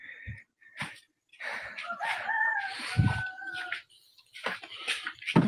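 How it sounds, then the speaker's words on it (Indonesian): A rooster crows near midnight with a drawn-out, wavering cry lasting a couple of seconds at moderate distance, framed by scattered knocks and thumps, with no talk over it. "Udah berkokok ayamnya di situ."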